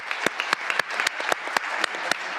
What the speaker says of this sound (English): Please join me in applauding the 4 panelists